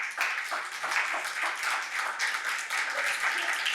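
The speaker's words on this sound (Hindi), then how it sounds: "तालियां बजाएं अपने लिए फिर" A church congregation at a sermon claps for themselves, a short burst of moderately loud applause from the room with no speech over it.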